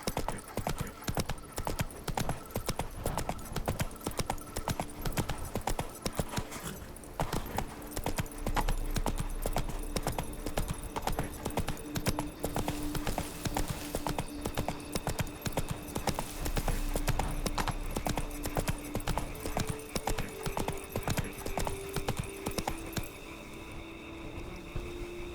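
Roach, Geralt's horse in The Witcher 3, trots steadily with a clear, continuous clip-clop of hooves that stays close and fairly loud throughout, set against a busy game soundscape with occasional faint voices.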